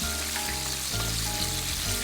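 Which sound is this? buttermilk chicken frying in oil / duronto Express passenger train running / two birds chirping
buttermilk chicken frying in oil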